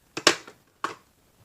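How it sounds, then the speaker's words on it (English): Setting spray misted onto a made-up face, two quick pump bursts close to the microphone, the first a double spritz, followed by a faint tap. "I'm gonna spray some 6+ on it."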